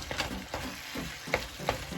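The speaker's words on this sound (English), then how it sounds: "Again, it's a very thick texture, so you gotta keep stirring." Thick canned beans sizzle in a hot pan for nacho topping, with a steady fry hiss broken by repeated scraping stirs and a couple of sharper spoon knocks; no one speaks.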